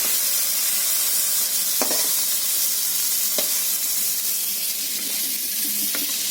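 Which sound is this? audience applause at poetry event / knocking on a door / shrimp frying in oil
shrimp frying in oil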